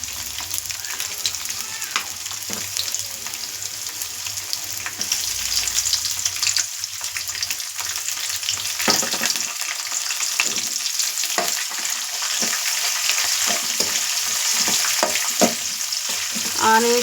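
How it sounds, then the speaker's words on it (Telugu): Chopped onions sizzle steadily as they fry in a pan of hot oil for a Rayalaseema uggani bajji dish, a continuous close crackling hiss with occasional sharper pops and brief stirring scrapes, no voices. "ఆనియన్స్ కూడా మంచిగా వేగిపోవాలండి. లైట్ గోల్డెన్ కలర్ వచ్చేంత వరకు వేయించుకోవాలి"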